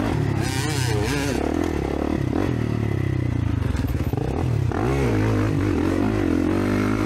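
A 2024 Kawasaki KX450 motocross bike revs hard and continuously during a race, its engine note rising and falling loudly throughout with no speech.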